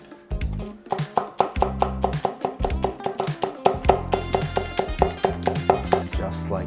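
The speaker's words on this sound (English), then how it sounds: "we're gonna chop up some scallion" Rapid knife chops cutting through scallions on a cutting board for a Korean rolled omelet, a steady run of close, crisp taps with background music underneath.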